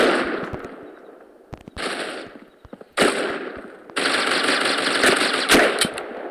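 Gunfire in the Critical Ops shooter game, including a shotgun: bursts of rapid automatic fire broken by short pauses, then a long sustained volley with sharp individual shots, loud and close.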